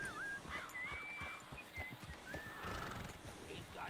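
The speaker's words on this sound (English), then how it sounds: "You've unlocked the rearing with this horse." A horse in the Red Dead Redemption video game rears and neighs, with several whinnies, snorts and hoof clops over a busy, low-level game soundscape.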